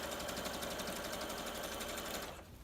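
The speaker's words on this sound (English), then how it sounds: "I'm just going to sew without worrying with this wide zigzag stitch" Sewing machine running steadily as it sews a wide zigzag stitch through paper journal signatures, a dense continuous mechanical whir close by that cuts off near the end.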